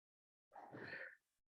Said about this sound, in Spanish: Perdón, fue un estornudo.